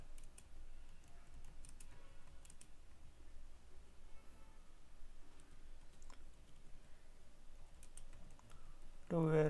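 Keys clatter in quick, uneven bursts on a computer keyboard, faint and close, with a soft background hum and a sudden burst of louder sound at the very end.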